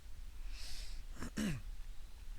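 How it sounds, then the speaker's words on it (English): A person clears their throat once with a short, rough rasp, preceded by a soft breathy sound, close and fairly quiet against a low background hiss. "You keep me clearing my throat."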